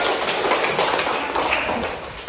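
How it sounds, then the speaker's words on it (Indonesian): Classroom of high school students clapping together, a dense, steady round of applause lasting a couple of seconds and fading slightly at the end, close and with no talk over it. "Ya, tepuk tangan dulu"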